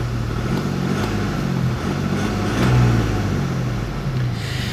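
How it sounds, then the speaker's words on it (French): A 2015 BMW 116d F20 with a three-cylinder diesel engine idles nearby, giving a steady, low, even drone with a slight swell in the middle and no voices. "donc on va écouter un petit peu la sonorité de ce moteur"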